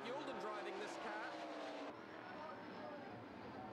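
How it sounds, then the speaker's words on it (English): A Ford Mustang Cobra race car at Ruapuna circuit roars past, a loud engine note with tire noise under a commentator's continuous talk, the pitch shifting as the car passes. "Tim Rooney continues to hold off the fire-breathing Ford Mustang Cobra"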